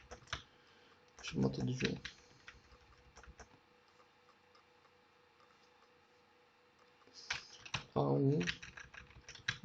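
Keys clatter on a computer keyboard as values are entered in Octave for solving linear systems, in two quick bursts of typing while a person speaks between them.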